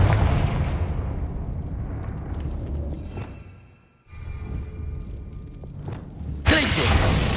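Fire-spell blasts in a Harry Potter video game, booming explosive bursts over dense rumbling game sound, a short drop to near quiet midway, then a sharp loud burst near the end.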